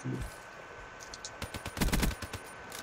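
Gunfire in Call of Duty: Black Ops 3, a short rapid burst of loud automatic shots after a few scattered game sounds.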